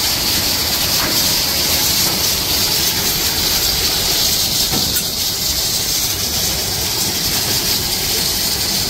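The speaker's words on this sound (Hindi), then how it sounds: "यहाँ पे ये देसी मोर बन रहा है, देसी मोर की कढ़ाई बन रही है" A desi peacock karahi cooks in a busy restaurant kitchen on Ring Road in Peshawar, with a loud continuous hiss and roar of flame and sizzling filling the space, no voices heard.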